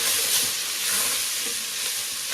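Sweet and hot paprika fries in a pot while being stirred, a steady, close, broadband sizzle with faint scraping under it and no talk.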